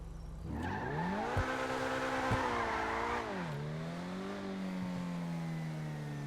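An Invetero Coquette D10 sports car in GTA 5 revs up and drives through a turn, its engine note rising then dipping and settling into a steady hum, close and alone.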